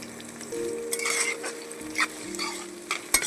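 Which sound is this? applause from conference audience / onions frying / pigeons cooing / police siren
onions frying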